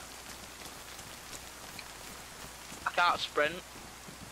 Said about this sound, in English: the rain's making me heavy